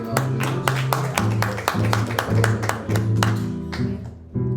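Church congregation applauding, a dense run of sharp rhythmic claps that carries steadily for several seconds, with a low musical drone and murmuring voices underneath.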